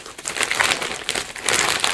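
Continuous loud crinkling and tearing of packaging torn open by hand, a Disney Parks baseball cap package, close up, with no talking.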